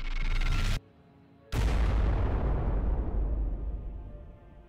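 Heavy gunfire and booming blasts in the strategy video game Warhammer 40K Regicide, a loud burst cut by a sudden short gap, then another big blast that rumbles and slowly fades.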